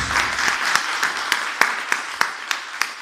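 A church congregation claps during a sermon on worship, starting with scattered applause that settles into sharp, evenly spaced rhythmic claps, close and loud.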